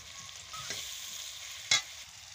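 Spices with turmeric, salt and bay leaf sizzle softly in a pan. There are faint, steady frying sounds, with a couple of brief scraping taps from stirring.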